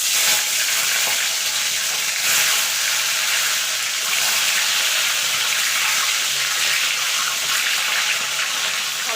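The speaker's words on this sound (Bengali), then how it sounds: "তেলটা গরম হয়ে গেছে। প্রথমে আমি ডিমগুলোকে ভেজে নেব।" Duck eggs fry in hot oil in a pan for an egg curry, giving a loud, dense, continuous sizzle that hisses steadily and closely throughout with no speech.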